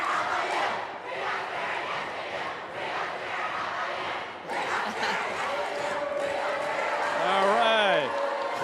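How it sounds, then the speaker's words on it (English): A high school game's student section chants and cheers loudly in spirited unison, a crowd roar with rhythmic shouted calls and a rising whoop near the end, with voices talking over it. "The student sections are now, like, we're going to fill the void. Oh, good old fashioned. We got spirit cheering."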